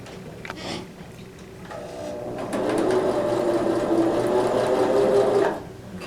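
Sewing machine stitching fabric strips for a quilt sampler block: a short burst, a pause, then a steady, loud mechanical whir of rapid stitching that stops abruptly.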